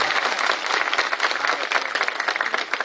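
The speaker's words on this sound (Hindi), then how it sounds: "तालियों से ठीक से स्वागत करिए," Sustained applause from a crowd of party workers at a meeting in Bhadohi, a dense steady clapping that runs throughout at fairly close range.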